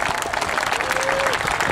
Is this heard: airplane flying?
no